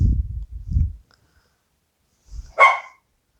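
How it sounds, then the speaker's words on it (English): A few low, muffled woofs, then a pause and one sharp, loud dog bark close by. "So he's barking out the window"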